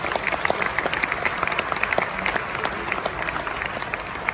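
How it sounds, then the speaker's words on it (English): Audience applause at a Techfest talk at IIT Bombay, steady dense clapping from a large crowd with a few sharper individual claps standing out, filling the whole stretch at moderate loudness. "Please give a round of applause to that lady."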